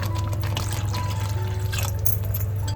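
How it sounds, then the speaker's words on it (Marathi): Water pours steadily into a pan of prawn curry, a continuous splashing stream under a low, constant hum. "तर अजून पाणी ऍड करायला लागेल आपल्याला याच्यामध्ये."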